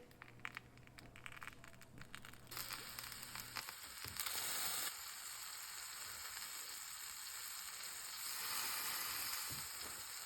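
Grilled cheese sandwich on eggplant parmigiana filling with basil and Parmigiano Reggiano, crisping under a lid in a pan over low heat: a steady, soft sizzle and crackle that swells a little partway through, with no talk.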